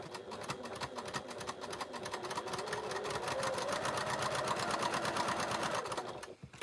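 A sewing machine stitches a partial seam on patchwork triangles, running continuously with a rapid, rhythmic needle chatter and motor hum close by, easing off just at the end.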